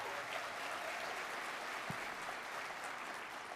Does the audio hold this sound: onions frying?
no